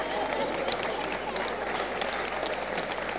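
Audience at a comedy stage show breaks into enthusiastic applause, a dense, steady roar of clapping mixed with crowd noise, continuous and fairly loud across the whole stretch.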